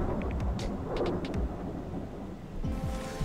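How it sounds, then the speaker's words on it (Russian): Thunder rolls in the survival video game Subsistence, a deep sustained rumble over steady rain, loud and close throughout. "Раскаты грома."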